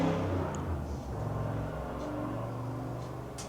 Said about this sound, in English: do you hear that car?